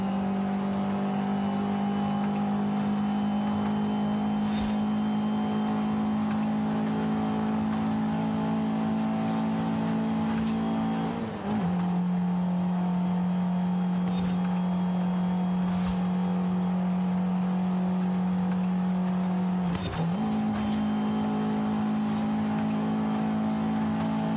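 A 1994 Mazda Miata MX-5 engine drones steadily during a race in Forza Horizon 5, holding a constant loud tone with two brief dips and recoveries, alone without speech.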